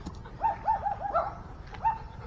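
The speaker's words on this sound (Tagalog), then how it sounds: "Eh, may aso doon sa kabila oh." Small dogs, such as Shih Tzus and Chihuahuas, yip in quick high-pitched barks in a rural provincial setting, a rapid cluster of four or five near yelps, then a pause and a single bark, with no talking.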